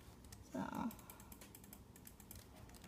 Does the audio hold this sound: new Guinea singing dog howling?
no